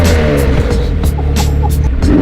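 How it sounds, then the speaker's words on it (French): A supercar's engine runs with a deep, steady low rumble and layered harmonics, loud and continuous throughout, with no talk over it, on a Paris street. "qu'on peut allumer le moteur pour que je vois un peu la sensation?"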